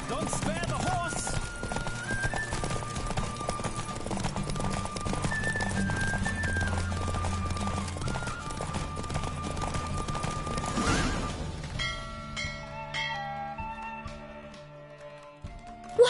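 Horse hooves clip-clop at a fast gallop in The Witcher video game, with a brief whinny, under continuous game music that thins out near the end.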